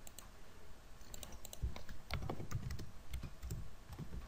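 Someone types a transaction code into an SAP BW system on a computer keyboard. Close, crisp keystrokes and clicks come in an irregular run with short pauses, and there is no talk.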